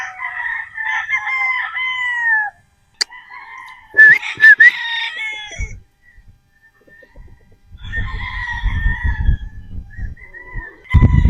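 Sweater Boston gamecock roosters crow loudly and up close, with several long, rising cock-a-doodle-doo calls and a few clucks, followed by rough rustling and shuffling near the end.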